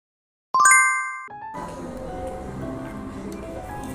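A bright notification bell chimes once as a sound effect, a quick cluster of clear ringing tones that fades, followed by a shift to muffled ambient noise with a person talking.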